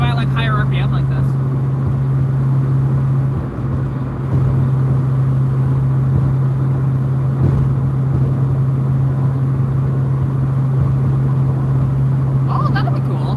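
A 1981 Ford Mustang engine held at higher RPM while cruising, giving a steady, loud droning hum with a strong low tone and road rumble throughout, and a voice talking over it now and then.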